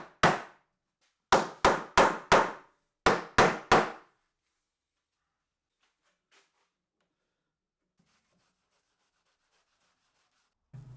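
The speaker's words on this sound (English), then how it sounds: "I can align the boards just with a few taps of a mallet instead" Sharp, distinct knocks of a mallet tapping wooden boards into alignment come in quick bursts, one single strike and then two tight groups of about four, followed by near silence.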